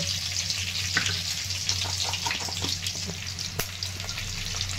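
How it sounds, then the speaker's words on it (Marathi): Eggplant pieces sizzle in hot oil with cumin, mustard seed, garlic and asafoetida for a stuffed eggplant dish, a soft continuous frying hiss with small crackles and occasional stirring clicks. "तेलामध्ये वांगे टाकून घेते. वांगे छान आपल्याला परतून घ्यायचे."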